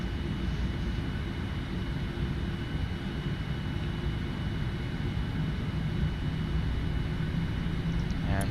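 A Qantas Boeing 787-9 sits on the runway in a Prepar3D flight simulator, its jet engines a steady, unbroken roar that holds loud and even throughout, with no voices.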